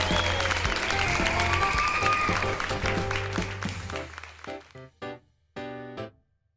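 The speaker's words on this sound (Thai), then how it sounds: "ขอเสียงโห่ต้อนรับน้อง iPhone 12 mini น้องใหม่ของบ้านนี้หน่อยครับ" A crowd cheers and applauds in welcome of an iPhone 12 mini, a dense, loud wash of sound for about four seconds that breaks off into a few short, clipped tonal bursts.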